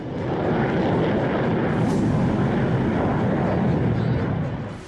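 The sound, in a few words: military aircraft flypast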